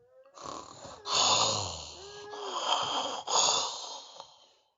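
A voice mimics a boar's snoring with several rough, rasping snorts and drawn-out breathy snores, close and fairly quiet.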